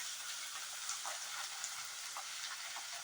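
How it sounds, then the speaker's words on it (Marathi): Soaked moong dal frying in oil with onion, green chili and garlic, a steady close hiss of sizzling with faint stirring scrapes. "ही भिजवलेली मूग डाळ घालायची आहे। ही आधी परतून घ्यायची तेलात।"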